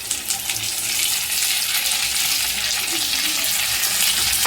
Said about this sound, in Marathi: त्यात शिमला आणि टोमॅटो टाकूया आपण